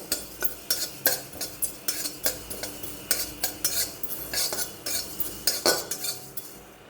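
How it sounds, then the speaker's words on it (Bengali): Black cumin being dry-roasted in a hot pan, heard as a quick series of sharp scraping and clinking stirs of a utensil against the metal, close and fairly soft, with no talking. "কালো জিরেটা হালকা শুকনো খোলায় হালকা ভেজে উঠিয়ে নেব আমি।"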